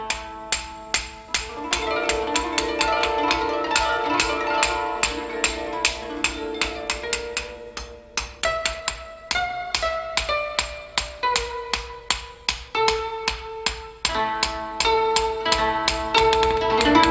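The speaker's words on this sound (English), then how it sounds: "Using a small hammer, the smith shapes the point, thins the edge and forms the ridge" A smith beats a Japanese sword blade with a small hammer, shaping the point, edge and ridge. Crisp metallic strikes repeat in a steady rhythm, each one ringing briefly over a sustained tonal background.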